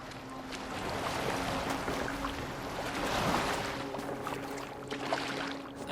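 A boat moving over water in Assassin's Creed Valhalla gives a steady broadband wash of water and wind. A low hum runs through the clip and a few faint knocks sit on top. There is no talk.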